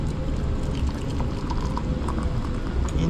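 Water heating in a pot or kettle for coffee in a home kitchen before dawn, giving a steady close rushing, bubbling wash with faint clinks, continuous and alone without talk.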